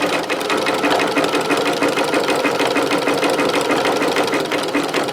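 A sewing machine runs continuously in zigzag stitch, sewing coiled rope into an oblong bowl, a steady loud mechanical whir with rapid needle knocking throughout and no pauses.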